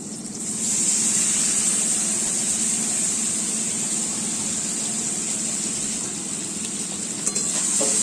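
Spiced soybean chunks hit a hot frying pan with tomatoes, giving a steady, loud broadband sizzle that holds evenly throughout with a faint clink near the end.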